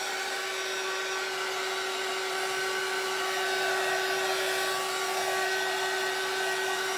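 A heat gun blows steadily and closely on a painted Dollar Tree pizza pan, giving a constant whirring hiss with a fixed tonal hum throughout.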